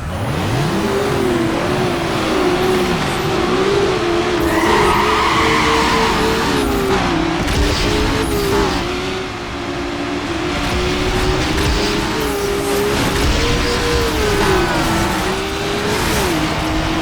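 Race car engine in Need for Speed Underground screaming at high revs almost nonstop, pitch rising and dipping as it over-revs between shifts, with tire squeal and skidding mixed in, loud and continuous.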